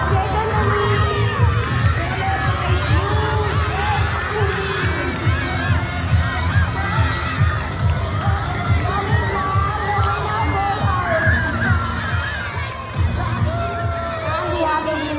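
A crowd at a school annual sports meet cheers and claps for Gold House as it takes the lead, children shouting and yelling excitedly in a loud, continuous roar with overlapping voices.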